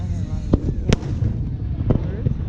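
Fireworks bursting outdoors at a 2021 display, a few sharp pops and booms spaced through the clip over a busy rumbling background, with people chatting nearby.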